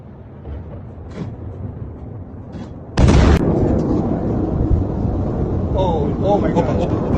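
Missile strike explosions over Tel Aviv at night: a sudden loud blast bursts in after a stretch of distant rumble and crowd noise, followed by sustained roaring, with faint voices in the background.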